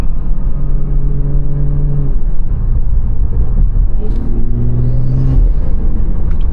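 A BMW 340i with a Stage 2 tuned B58 engine on a late-night run, heard from inside as a loud, steady low rumble with rising revs and gear-change dips throughout.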